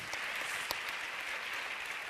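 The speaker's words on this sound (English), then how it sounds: "A big round of applause, everyone," An audience claps steadily, a continuous wash of applause heard at a moderate distance for a couple of seconds.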